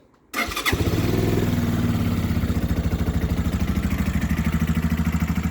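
A 2021 Keeway Superlight 125 motorcycle is started after a short quiet pause. The engine catches with a clattering burst, then settles into a loud, close, steady idle with a rapid pulsing beat.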